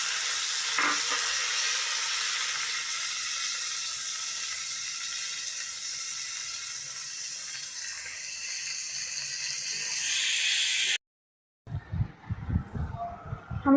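Red amaranth greens with dried chili frying in a pan, a steady hissing sizzle that runs unbroken for about eleven seconds, then cuts off before a short stretch of clattering and muffled sounds.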